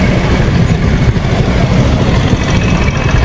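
A motorcycle engine idles steadily up close, with smoke coming from under the seat; a continuous low rumble holds even and loud throughout, with no talking.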